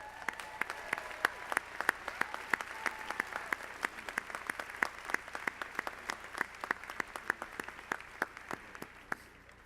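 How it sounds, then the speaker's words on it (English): A graduation ceremony audience applauds warmly, dense steady clapping from a sizable crowd in a hall, sustained for several seconds. "can you please stand for a warm round of applause?"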